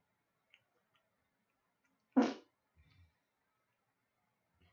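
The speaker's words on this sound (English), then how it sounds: "Yeah, that was a fart. Did you hear the fart?" A single short, raspy fart bursts out in an otherwise quiet room, lasting a fraction of a second, with a few faint clicks around it.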